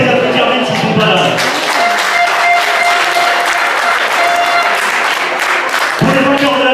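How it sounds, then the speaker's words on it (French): Crowd applause at a Paris tournament prize ceremony: a loud, close, sustained burst of many people clapping, with cheers and voices layered through it, swelling again near the end. "Donc je pense qu'on peut les applaudir même s'ils ne sont pas là."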